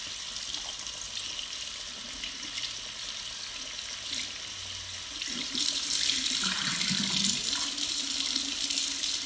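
Water runs steadily from a bathroom sink tap while face cleanser is rinsed off, a continuous hiss with splashing that grows a little louder and busier partway through as hands move under the stream.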